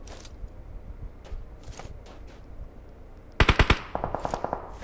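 A Glacier AKM rifle fires in a video game: a loud, tight burst of four or five shots, then a second, slightly softer run of rapid shots, over quiet game ambience.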